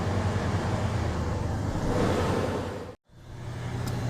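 2001 mud truck engine idling after a fuel pump change, a steady low rumble that cuts out abruptly near the three-second mark, then returns and builds back up.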